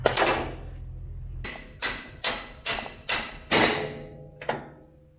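Heavy hammer blows strike the metal straw chopper of a 9500 combine one at a time, about six sharp thuds with short gaps, each followed by a brief ringing decay.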